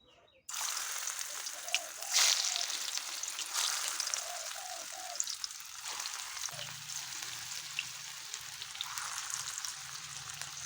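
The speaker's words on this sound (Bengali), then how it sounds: "তেল গরম হয়ে গেছে এখন বড়াগুলো ভেজে নেব" Banana flower kofta balls frying in hot oil in a kadai, a steady close sizzle running throughout with a brief louder crackle early on and faint clinks beneath.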